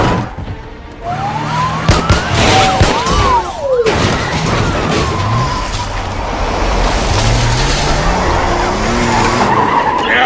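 Truck tires skidding during a video game car chase, a loud squealing screech with swooping tones over heavy engine roar and police sirens, sustained for several seconds without speech.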